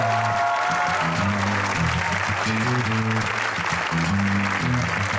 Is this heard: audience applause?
yes